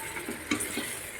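Chicken biryani mixture stirred in a pot, soft scraping strokes over a faint, steady sizzle, quiet and close.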